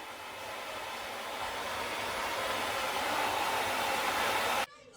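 A hair dryer blows steadily while hair is being blow-dried, a close, loud, even rush of air that builds slightly before cutting off abruptly near the end.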